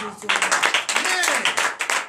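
A congregation at a morning prayer service claps and cheers in acclaim for Jesus, rhythmic bursts of hand claps mixed with raised, joyful voices.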